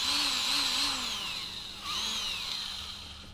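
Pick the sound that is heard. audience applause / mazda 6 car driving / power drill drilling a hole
power drill drilling a hole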